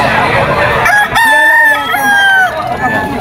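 A rooster crows loudly and close by at a market in one long, rising and falling call, with clucking chickens and background noise around it.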